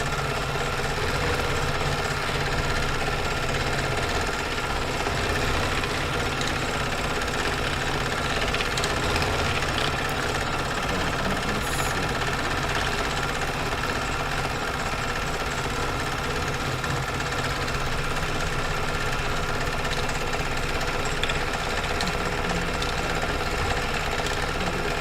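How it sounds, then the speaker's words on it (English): A home embroidery machine stitches out a design in a steady, dense mechanical chatter, a continuous buzzing hum with rapid needle strokes that runs unbroken and loud throughout. "I wanted to keep the sound of stitching in there, but this is actually a pre-recorded stitch out"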